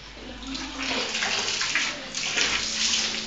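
Hot tap water runs steadily into a bathtub while a panda toy is washed, a continuous close splashing hiss with soapy water and faint voices in the background.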